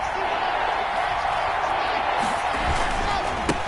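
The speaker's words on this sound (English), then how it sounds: "This crowd dying for a stop" A simulated stadium crowd in a PS4 football game roars steadily as fans press for a defensive stop on third down, a dense, continuous wash of cheering with occasional sharper bursts.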